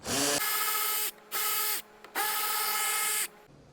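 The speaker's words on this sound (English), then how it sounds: "They are long-winded bolts, so I use a cordless ratchet." A cordless ratchet backs out long 7mm bolts on a 2018 Ford F150 grille, running in three steady whirring bursts separated by short pauses, close and loud, with no talking.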